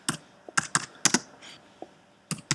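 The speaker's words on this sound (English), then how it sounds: "So if I was to type Saturday" Typing on a computer keyboard: a handful of crisp, close keystrokes in uneven clusters with short pauses between them, no voices.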